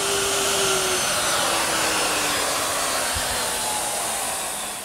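A wood router cuts a curved groove in a block, a loud steady high-pitched whine with airy noise that holds throughout and begins to fade at the very end.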